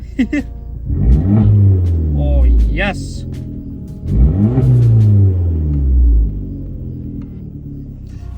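A straight-piped Abarth 500 with a 1.4 liter turbo engine revs hard twice, each loud rising snarl falling back to a rumbling idle, with a person speaking briefly over it.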